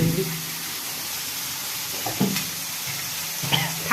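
Scrambled eggs fry in oil in a home kitchen, a steady sizzle with a few scraping stirs of the spatula. It is close and moderately loud.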